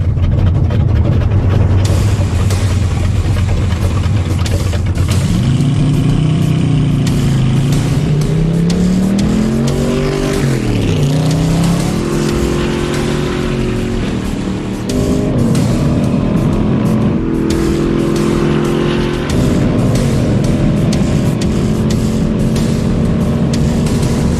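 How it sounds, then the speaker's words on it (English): A land speed car is push started on a drag strip, its engine catching and roaring loud and close, revving up and down in sweeping rises and falls that hold for the whole stretch. "We're getting ready to push start a land speed car on a drag strip"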